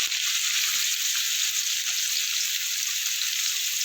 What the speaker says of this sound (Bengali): দিয়ে আলুটাকে ভালো করে আমি একটু ভেজে নেব।